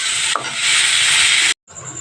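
Pointed gourd frying in oil with garlic, onion and chilli, a loud, close, steady hissing sizzle that cuts off abruptly near the end and returns more faintly, with no talk.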